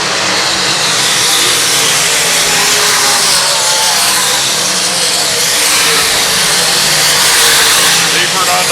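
Race cars on a racetrack at a night race roar continuously and loudly, with engine noise rising and falling as the cars come around the lap.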